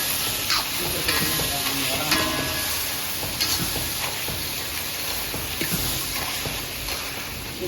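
Crab curry masala frying in oil for Chettinad-style crab kuzhambu: a steady, loud sizzle with faint stirring clicks throughout, close by with no talk.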